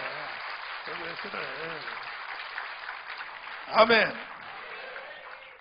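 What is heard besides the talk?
congregation applauding in church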